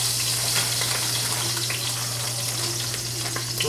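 Ox heart meat browns in hot oil in a pan, giving a steady, close, loud sizzle with faint crackles throughout and no talking.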